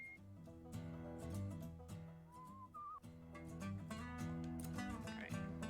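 A short whistled phrase with a rising, wavering pitch sounds in Where the Water Tastes like Wine. It rides briefly over strummed background music, fairly soft, with no talking.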